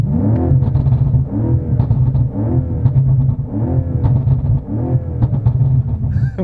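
A BMW M5 Competition engine revs hard in a rapid, rhythmic series of loud, throaty blips with crackling exhaust pops between them, close and dominant throughout.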